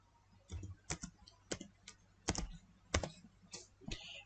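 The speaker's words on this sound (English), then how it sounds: "Press shift plus" Shift plus 3 pressed on a laptop keyboard: a run of about ten crisp, close key clicks with irregular gaps, no talk.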